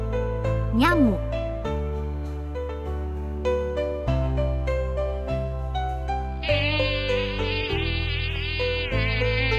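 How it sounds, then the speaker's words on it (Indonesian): A mosquito buzzes in a high, thin whine over a steady musical backing, with a voice briefly heard and the tone shifting partway through. "Nyamuk."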